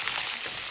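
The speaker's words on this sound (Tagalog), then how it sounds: "Iprito muna natin to para mawala yung lansa." Chicken legs and thighs frying in a pan, a steady broadband sizzle of hot oil that stays loud and even throughout, with no speech over it.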